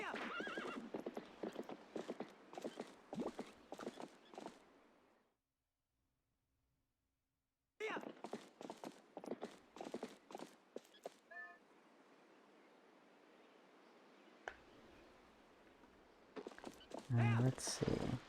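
Epona, the horse in Zelda: Twilight Princess, clip-clops in rhythmic hoofbeats with neighs and whinnies. A silent gap breaks it before the hooves resume, ending with louder, closer sounds.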